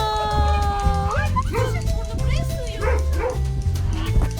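A dog barks and yips outdoors in a village, several sharp bursts scattered through the clip with people talking over it and background noise.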